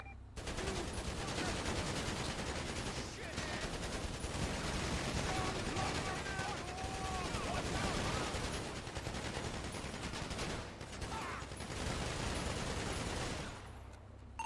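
Bursts of automatic gunfire and rapid shots during a bank truck robbery in an online role-play video game, sustained and dense, with voices talking over the shooting.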